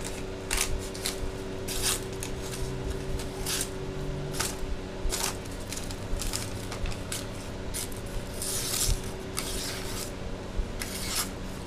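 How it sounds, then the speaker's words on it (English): Scissors cut through wrinkled paper receipts, repeated crisp snips and rustling crinkles at irregular intervals over a steady background hum, close and fairly quiet. "It's hard to cut wrinkled receipts."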